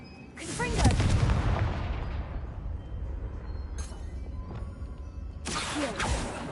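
Confringo fire spell blasts in Hogwarts Legacy on PS4 Pro: a loud booming explosion with a long rumbling decay, followed by further bursts and crackles, and a voice speaking over it.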